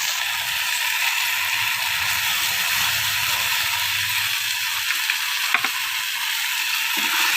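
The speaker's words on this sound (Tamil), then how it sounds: "நல்லா வதக்கிக்கோங்க" Ground tomato and turkey berries sautéing in a pan for a village-style curry, giving a steady, dense hiss that runs unbroken throughout with a faint scrape or clink midway, and no talking.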